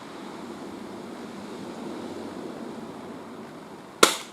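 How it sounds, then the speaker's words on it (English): Wind blows steadily outdoors at an airgun shooting range on a winter day, a continuous low rushing noise, ending with one sharp crack close by. "The wind doesn't help either."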